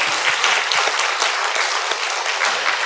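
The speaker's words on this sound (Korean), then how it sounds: "박수 한번 해주세요" A church congregation at a Sunday service gives a pastor a round of applause, the dense, lively clapping sounding close and loud and continuing unbroken for a few seconds.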